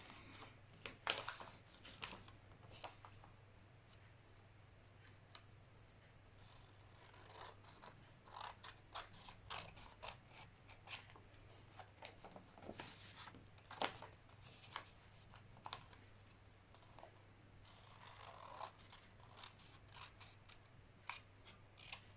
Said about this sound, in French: avec mon ciseau, je vais enlever ce que j'ai rabattu